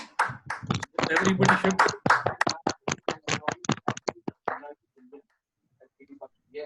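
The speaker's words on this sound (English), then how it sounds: "a round of claps, a round of applause for our guest speakers" Several people on a video call clap in a quick burst of applause with overlapping voices, the claps thinning into a few scattered pats before quiet.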